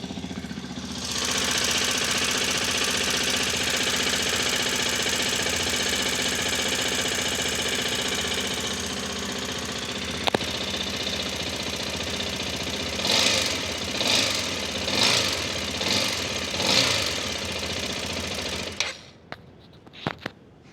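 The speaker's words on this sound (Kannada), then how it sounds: "ಸೊ ಇವಾಗ ಟ್ಯಾಪಿಂಗ್ ನಾಯ್ಸ್ ಇದರಲ್ಲಿ ಬರ್ತಾ ಇದೆ. ಸೊ ಇಂಜಿನ್ ಆನ್ ಮಾಡ್ತೀನಿ ನೋಡಿ" A Hero Xpulse 210 motorcycle engine starts and idles with a faulty, rapid metallic tapping over its steady run, recorded close up with the mic placed near the engine, then cuts off near the end.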